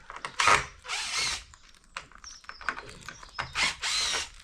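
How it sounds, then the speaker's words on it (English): A power drill driving screws into a uPVC window frame, with several short whirring bursts separated by pauses and ratcheting clicks, close and loud. "just use the drill bit head"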